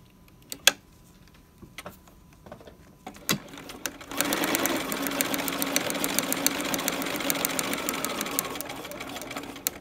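A sewing machine stitches the two ends of fabric piping together, starting after a few quiet clicks and handling noises and then running steadily and close for the rest of the stretch, alone without talk.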